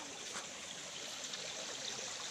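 A small mountain stream with clean water flows steadily with a soft, continuous trickle and gurgle, fairly quiet and unbroken throughout.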